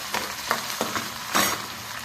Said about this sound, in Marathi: आणि कांदा घालायचा. कांदा आपला चांगला परतला जातो.